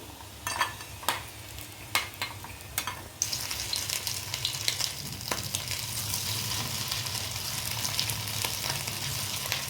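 Chicken pakodi frying in hot oil: a few sharp clinks from stirring, then a steady, close, loud sizzle and crackle that fills the rest without pause.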